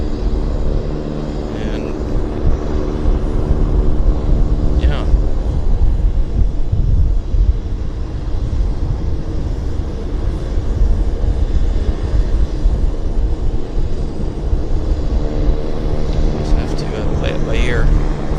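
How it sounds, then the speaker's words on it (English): A steady jet engine roar from an Air Canada Boeing 737 Max at Vancouver Airport carries through the whole stretch at fairly close range, with someone talking over it at points. "it's an Air Canada Max"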